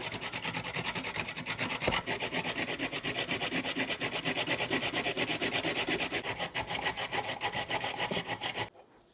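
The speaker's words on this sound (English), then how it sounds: "So we're gonna hand grate today." Carrots grated by hand on a grater for homemade kimchi: a steady, fast rasping scrape repeating without pause for about nine seconds, loud and close, with no talk, ending abruptly.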